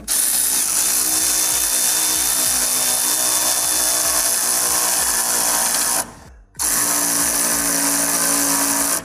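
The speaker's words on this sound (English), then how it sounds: "then we'll run this down with our wrench, our electric ratchet" An electric ratchet spins a 15 mm socket to run down a sway bar bolt and nut while installing Mustang sway bars, buzzing steadily and loudly up close with a brief pause midway before resuming.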